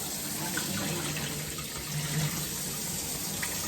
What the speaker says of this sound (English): We got them cleaned all up, rinsed them off.